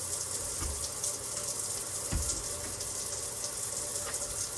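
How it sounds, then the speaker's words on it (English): Water pours steadily from a rain shower head, a continuous close hiss and splash with slight surges and a soft thump partway through. "Yay, rain shower."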